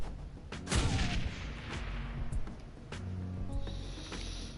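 Gunfire in the video game Shadowrun Hong Kong, several sharp cracks and booms spread over a few seconds among other game effects, moderately loud with no talking.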